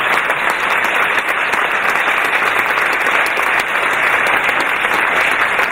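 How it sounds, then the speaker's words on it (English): Loud, sustained audience applause for Karen at a charity art sale, dense clapping from a full room holding steady throughout with no talking. "Ladies and gentlemen, give Karen a fantastic round of applause."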